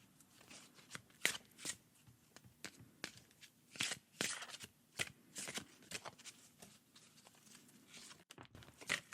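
Tarot cards being shuffled by hand during a reading, a run of quick crisp riffling bursts and soft paper slaps at an irregular rhythm, close and fairly quiet with no talking.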